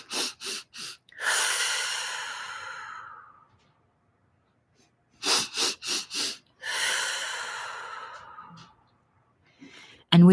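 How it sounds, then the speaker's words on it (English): Several rounds of deep nasal breathing during a guided meditation: quick sniffing inhales followed by long, audible sighing exhales, repeated in two clear cycles with a pause between, close and unaccompanied. "I want you to take 2 more rounds of our 4 nasal breath."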